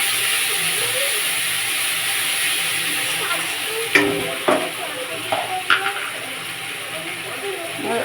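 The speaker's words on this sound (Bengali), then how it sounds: "আদা রসুন পেঁয়াজ টমেটো পেস্ট দিয়ে দিচ্ছি 2 চামচ" A paste of ginger, garlic, onion and tomato hits hot oil in a pan, sizzling and hissing steadily, with a few sharp clinks and scrapes of stirring partway through.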